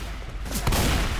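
Gunfire from a weapon in the video game Left 4 Dead 2, a short loud burst of shots near the end of a brief noisy stretch.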